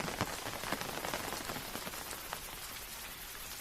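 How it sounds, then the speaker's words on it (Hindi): Steady rain patters on a surface, a soft, even hiss with scattered drips, fairly faint and with no voices. "बाहर खड़े होकर बारिश देख रहे हैं"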